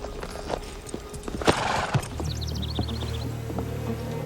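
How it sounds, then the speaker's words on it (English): A horse's hooves clip-clop on the ground in a film scene, several uneven thuds followed by a high whinny near the end, with steady background ambience and no talk. "a random shot of a horse"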